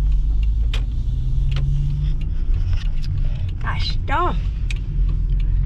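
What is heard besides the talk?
car driving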